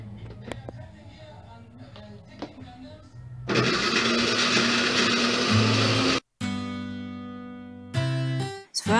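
Blender grinding fresh coconut without water: after a quieter start, the motor kicks in with a loud, harsh whir, cuts out abruptly, then restarts in short bursts with a strained, changing pitch.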